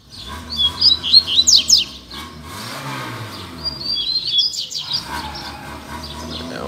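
A double-collared seedeater sings in a song contest against a free-flying bird, giving loud, close bursts of rapid high chirps and trills, then a quieter, looser stretch of song.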